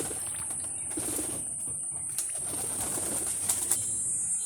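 Pigeons at a loft, a few still outside and two perched on the roof, give soft intermittent coos and occasional wing flutters over a steady high background hiss.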